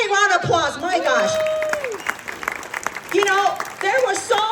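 Audience applause at an event featuring international entrepreneurs, moderate clapping running underneath a speaker's voice, which talks over it at the start and again near the end.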